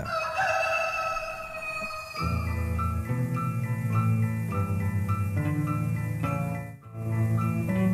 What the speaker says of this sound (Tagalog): Bakit may manok?